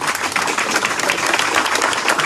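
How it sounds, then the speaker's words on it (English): An audience at a mayoral campaign announcement gives loud, sustained applause, a thick and close wall of clapping that runs steadily from start to finish with no one speaking. "let's give him a nice round of applause."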